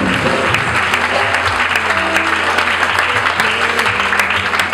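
A church congregation at a healing prayer service applauds and cheers in acclaim of the name of Jesus, with loud, sustained clapping filling the room throughout.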